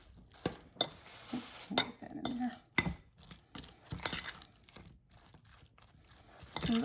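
A spoon scrapes and clinks against a bowl while guacamole ingredients such as chopped onion are stirred together, irregular close knocks and soft squelching with no talk.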